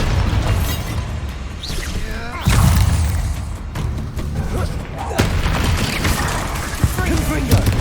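Bombarda blasting-spell explosions in the Hogwarts Legacy video game, heavy booming blasts and crackling bursts in a chaotic battle, with a character's voice shouting over the loud, continuous din.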